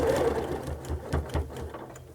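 A sewing machine stitches a quilt along a ruler in quick, steady bursts of mechanical needle strokes, close and clear, with no voices.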